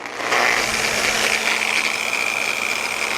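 An angle grinder on a low speed setting, used in ironwork, spins up and holds a loud, steady whine with a rough buzzing edge, close and alone.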